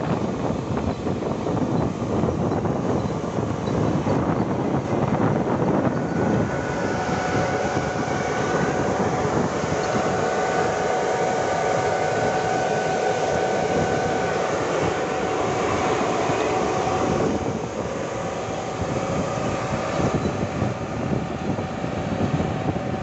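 Vepr cultivator working a field, a steady loud mechanical rumble and roar that holds constant throughout without pauses or speech.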